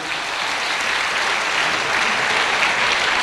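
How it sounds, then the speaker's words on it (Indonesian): Dense, steady applause from a large audience at a university talk with Ganjar Pranowo, a continuous wash of many hands clapping with no break. "Tepuk tangan untuk"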